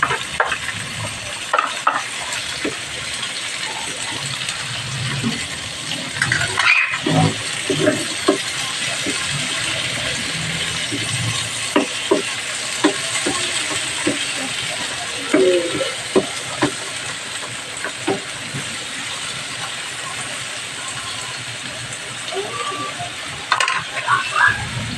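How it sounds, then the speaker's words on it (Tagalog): Onion and tomato sauté in a hot pan for ginisang mongo, with a constant loud sizzle and frequent clattering stirs of a spatula that continue unevenly throughout, close up and without talk. "Okay, lagyan na natin ang sibuyas at kamatis."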